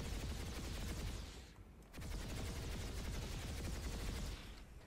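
Rapid automatic cannon fire from an ESF aircraft in the Planetside 2 video game training room, a dense, loud, continuous burst that breaks off briefly near the middle before hammering on again.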